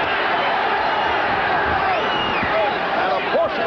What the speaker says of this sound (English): And a portion of the crowd brings the heat on.